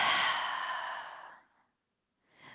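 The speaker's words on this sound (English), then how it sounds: "Exhale, exhale, and pump." One long, forceful breathwork exhale, a breathy rush of air that fades out over about a second and a half, then a short intake begins.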